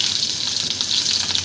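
Fried potato, drumstick and bitter gourd pieces frying in hot oil with black cumin, giving a steady, close, bright sizzle throughout with no voices.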